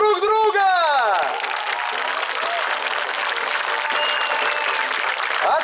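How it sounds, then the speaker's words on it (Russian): An audience at a youth forum opening breaks into loud, sustained applause after a voice, the clapping dense and even throughout. "Друзья, давайте бурными аплодисментами поприветствуем друг друга!"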